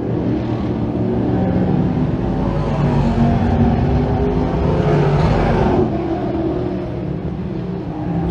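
Limited sportsman race cars roar around a speedway track, a loud continuous engine drone with rising and fading passes as the pack circles, no voices over it.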